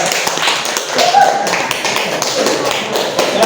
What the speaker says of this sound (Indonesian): Ya, tepuk tangan dulu buat pemerintah.